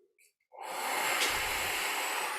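A slow, deep guided breath during a meditation, heard as a long steady airy exhale that starts after a short pause with a few faint breathy sounds, close and soft, with no talking over it.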